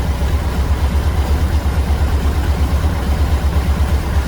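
A 1600 VW Beetle engine with a 34 PICT3 carburetor idles steadily at about 1,000 RPM, a deep even rumble with a faint rhythmic pulse and no voices.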